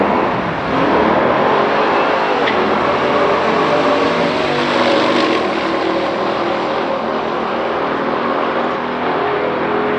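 A 1971 Plymouth Cuda with a 6-speed manual and a four-door Corvette in a stock drag race, one loud sustained engine roar as the cars accelerate hard down the strip.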